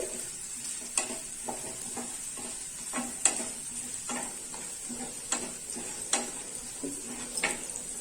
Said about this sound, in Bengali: পেঁয়াজটাকে তেলে টস করছি।